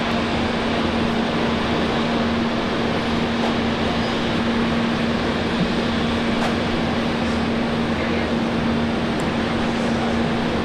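Singapore Airlines flight 256 taking off from runway 01 right at Brisbane Airport: a steady, loud, broadband jet engine roar with a constant low hum, sustained throughout without breaks.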